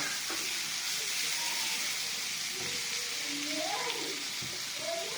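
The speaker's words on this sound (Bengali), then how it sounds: "কড়াইয়ের মধ্যে তেল দিয়ে তার মধ্যে পেঁয়াজ ঢেলে দিচ্ছি" Onions fry in oil in a wok, giving a quiet, continuous sizzle with soft scraping and stirring sounds now and then, close by and free of talk.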